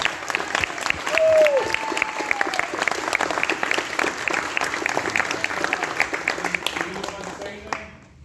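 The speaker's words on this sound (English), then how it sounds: "Another round of applause for him, guys" A live audience applauds warmly after a horror film screening Q&A, a dense sustained wash of many hands clapping throughout, with people talking and calling out over it before it cuts off at the end.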